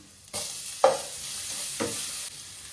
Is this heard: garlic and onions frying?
yes